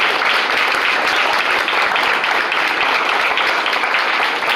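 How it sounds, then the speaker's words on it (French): Dense, loud audience applause in honor of Yolette McGuire at an event on positive masculinity in Haiti, a continuous even wash of many clapping hands with no pauses. "Merci de m'aider à applaudir cette courageuse Yolette McGuire."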